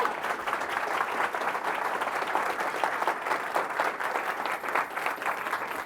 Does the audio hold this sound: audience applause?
yes